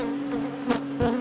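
Honeybees at an opened hive buzz angrily in a steady, close, droning hum, with a couple of louder bees passing near the microphone.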